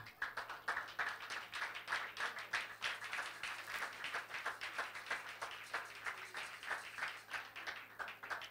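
A church congregation claps steadily and rhythmically for several seconds, a dense, continuous patter of many hands with no talking.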